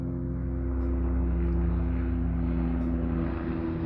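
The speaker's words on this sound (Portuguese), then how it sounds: "Tá passando aqui o helicóptero." A helicopter passes overhead, a loud steady low rotor and engine drone with strong humming tones that holds constant throughout.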